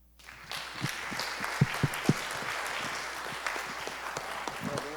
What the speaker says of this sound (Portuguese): E eu queria pedir a todos, a vocês, uma salva de palmas para Jorge.